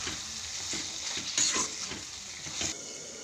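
Chicken intestines fry in a pan, a close, busy sizzle broken by rhythmic stirring scrapes and a few clinks of the spatula against the pan, with no voices.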